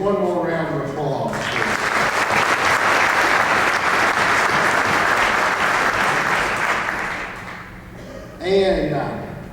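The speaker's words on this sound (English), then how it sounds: "Let's give each one of those individuals one more round of applause." At a Salute Week ceremony honoring service members, an audience breaks into loud, sustained clapping. It follows a speaker's voice, swells for several seconds, fades out, and then the speaker briefly resumes.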